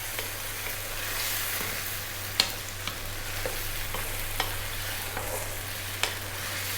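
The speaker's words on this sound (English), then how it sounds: "and we're going to drop in that tomato." Crushed canned whole plum tomato lands in a hot pan, giving a steady low sizzle with a few soft splashes and light clicks of utensil contact, close and unaccompanied by voices.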